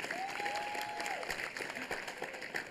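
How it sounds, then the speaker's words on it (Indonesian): A studio audience at a televised Indonesian concert show claps in a brief, moderately loud burst of applause, with a whistle-like tone rising over it. "silakan mau tepuk tangan."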